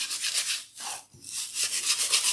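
Wooden popsicle-stick craft edges sanded by hand with sandpaper, a steady close rasping rub in repeated strokes with two brief pauses, no voices.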